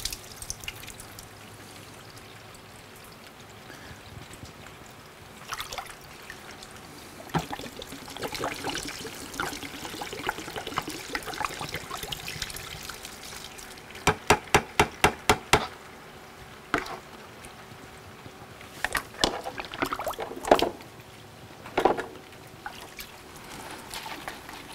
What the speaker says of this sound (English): I'm taping and prep my wash bucket. I generally like to rinse this out if I can.